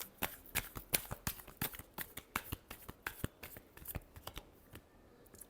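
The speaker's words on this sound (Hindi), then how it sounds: "Last shuffle." Tarot cards shuffled by hand at close range: a quick run of crisp riffling snaps and flutters, a few seconds long, with no voices.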